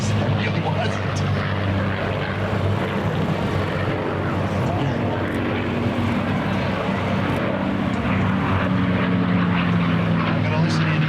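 An F-16 Viper fighter jet roars continuously at a flight demonstration, a loud, steady, broadband engine rumble with a rising whine, sustained for the whole stretch and heard from the ground.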